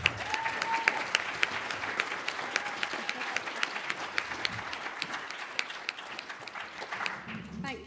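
Audience applause welcoming speaker Yasmin Rehman at the Secularism 2019 conference, a steady dense clapping that continues for about eight seconds and fades out at the end.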